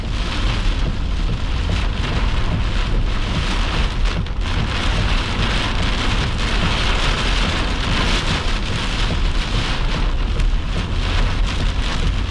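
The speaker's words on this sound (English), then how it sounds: "Blinding rain." Heavy, blinding rain from a tornado-warned storm in Arkansas pounds a car as a dense, unbroken roar of drops hammering the roof and glass, loud and close throughout with no voices.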